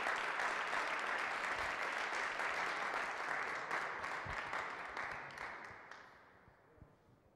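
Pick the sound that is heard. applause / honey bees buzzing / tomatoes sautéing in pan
applause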